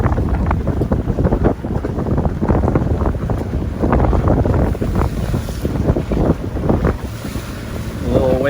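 A sailboat pushes into waves and swell in heavy wind en route to the Abacos, with loud wind buffeting the microphone over repeated thumps and splashes of water against the hull.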